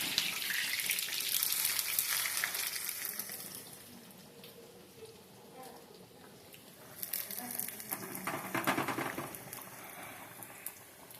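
Onions and curry leaves dropped into hot oil for a Kannur-style lentil curry, giving a loud, dense sizzle that settles into a steady frying hiss and swells again later; a voice talks faintly underneath.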